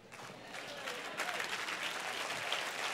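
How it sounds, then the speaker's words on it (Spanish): A church congregation applauds during a sermon, the clapping building from a modest patter into a fuller, steady wash of many hands, heard at a moderate distance. "Si ese es el aplauso, dáselo bien."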